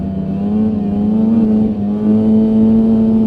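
Polaris Indy 550 snowmobile engine held at full throttle, a loud, steady, close engine roar with a strong sustained tone that wavers slightly and holds for a few seconds, with no talking.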